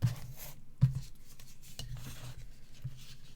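A section of glue-covered card is cut by hand, heard as soft, close scraping and rasping strokes with a few sharper clicks, quiet throughout.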